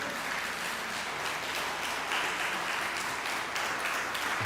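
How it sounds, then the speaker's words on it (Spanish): A church congregation applauding God during a sermon, steady sustained clapping from many people at moderate volume, with no speech over it. "Dele un aplauso a Dios"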